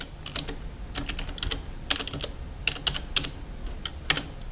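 Typing on a computer keyboard while editing the rc.local file on a Linux system: irregular clusters of close, crisp key clicks with short pauses between bursts, no voices.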